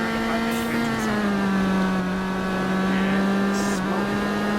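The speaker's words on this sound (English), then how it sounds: "It's got a very high-pitched engine sound." A high-pitched car engine in the driving game BeamNG.drive holds a loud, steady whining drone with a faint rise and fall in pitch, running continuously with no talk.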